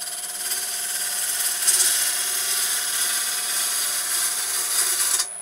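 A wood lathe spins steadily while a bevelled chisel cuts into the turning wood and throws shavings aside, giving a continuous close, hissing, scraping whir with slight swells in intensity.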